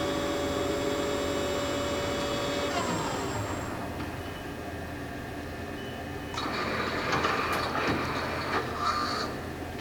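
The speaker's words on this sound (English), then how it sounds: "That's the turret indexing" Turret indexing on an 18 x 40 inch Southwest Industries TRAK two-axis CNC flat bed lathe, a whining tonal motor hum that glides down and stops, then a louder mechanical clunking whir near the end over shop background noise.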